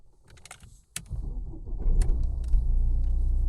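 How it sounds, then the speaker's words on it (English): A Mercedes-Benz A-Class started with an original key: clicks and a brief jangle, then the engine catches and settles into a steady low rumble that builds and holds close by for the rest of the moment. "Start the vehicle."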